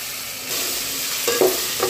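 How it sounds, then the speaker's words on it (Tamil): Chopped tomatoes hit hot oil in a pan for a Tamil tamarind kuzhambu made with black-eyed peas, setting off a steady close sizzle that grows louder with a couple of short stirring scrapes. "இப்போ கட் பண்ணி வச்சுருந்தா தக்காளி சேர்த்துடலாம்."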